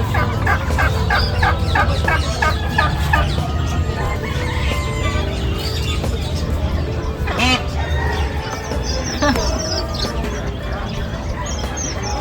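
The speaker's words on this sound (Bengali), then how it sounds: "আর নিচের দিকেরটা হচ্ছে টার্কি।" Turkeys gobble in loud bursts amid clucking fowl at a livestock market in Sharjah, with a busy, noisy yard background and some voices mixed in.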